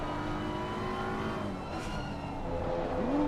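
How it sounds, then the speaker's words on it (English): Porsche race car in a sim-racing endurance event at Circuit of the Americas, engine droning steadily as it brakes, with a brief rising whine and faint tire noise near the end. "Porsche braking a little bit early there"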